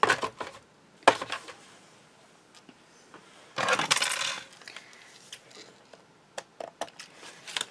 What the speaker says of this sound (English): And then we're going to cut these bits off